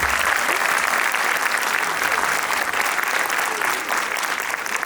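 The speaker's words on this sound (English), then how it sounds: "I think you all deserve a big round of applause from our team too." Sustained audience applause at a school annual day event, dense and steady clapping from a large crowd filling the whole stretch at even loudness, with no clear voices standing out.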